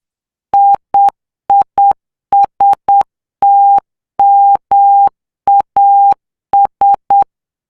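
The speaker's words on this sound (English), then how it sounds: "And there is Merry Christmas in Morse code." Merry Christmas tapped out in Morse code as clean, loud electronic beeps from a simulated microcontroller, short dots and longer dashes in steady groups with brief silent gaps between letters and words.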